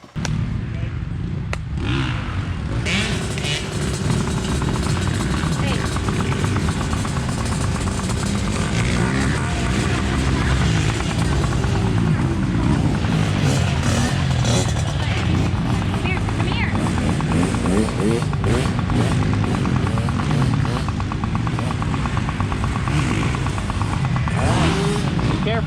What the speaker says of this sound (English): I got the bike warming up.